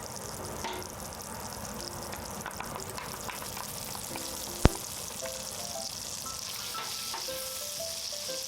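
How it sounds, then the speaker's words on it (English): Butter sizzling and frying in a non-stick pot at the start of a cheese sauce for shrimp bacon macaroni, a steady close crackle with one sharp click partway through. "Going in with a little bit of butter,"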